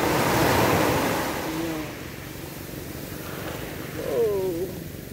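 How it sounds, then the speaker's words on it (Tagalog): Ocean surf at Pink Beach at sunrise rolls in with a broad, steady wash of crashing waves, heavy and continuous, with some wind noise over it. "Makikinig tayo sa hampas ng alon."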